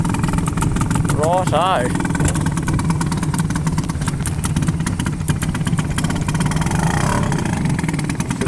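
A 1984 Mariner 4hp outboard motor starts and runs with a loud, close, buzzing putter that holds steady throughout, while someone speaks briefly over it.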